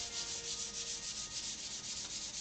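Higher-grit sandpaper rubs back and forth across a wooden guitar fretboard in quick, even strokes, a soft, steady rhythmic scratching with no voices.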